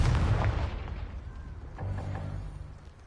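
A blasting Confringo spell cast in a Harry Potter video game bursts with a heavy, booming explosion that fades out, followed by a second, softer rumbling impact.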